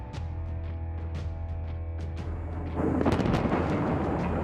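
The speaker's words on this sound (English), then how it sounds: "Explosions on hillsides" Explosions rumble on hillsides during a U.S. and South Korean military drill, a deep continuous roar that swells louder partway through, with scattered sharper cracks and no speech.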